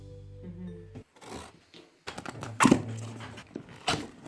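A pug dog gives soft whimpers and snuffling yips at close range, brief and intermittent, with some background noise but no speech.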